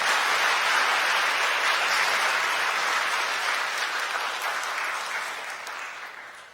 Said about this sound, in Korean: 여러분도 환영의 박수 부탁드립니다.